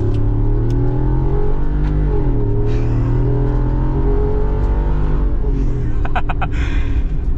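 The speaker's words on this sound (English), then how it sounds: "we got to do some high speeding with this Hemi" A 2022 Jeep Wrangler Rubicon 392 Xtreme Recon with a Hemi V8 on 35-inch tyres accelerates hard at high speed, a loud sustained engine roar rising through gears with wind noise, no talk over it.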